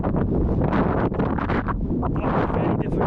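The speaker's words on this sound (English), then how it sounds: "It's really windy up here, so it might be hard work getting to sleep tonight." Strong wind gusts buffet the microphone on an exposed hilltop at a wild camp on Sugar Loaf, a loud, continuous roar with rushing surges and no pauses throughout.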